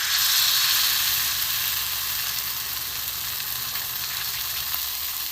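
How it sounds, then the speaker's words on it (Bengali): Ripe mango malpua batter frying in a little oil over low heat, an even, continuous hissing sizzle that stays close and steady throughout, with no voices. "গ্যাস কমিয়ে কমিয়ে ভাজতে হবে"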